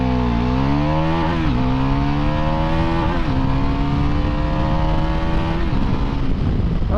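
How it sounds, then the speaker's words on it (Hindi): A Bajaj Pulsar NS400 motorcycle accelerating hard in sports riding mode, engine note climbing through several gears with brief dips at each shift, loud and close with no talk. "और स्पोर्ट्स मोड में ये चली अपनी बाइक।"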